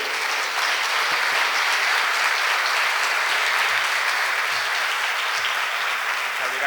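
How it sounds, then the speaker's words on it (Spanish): Audience at the opening of a national labour law congress in Colombia applauding a speaker, a loud, dense and steady wash of clapping lasting several seconds. "recibamos con un fuerte aplauso a Juan Daniel Oviedo"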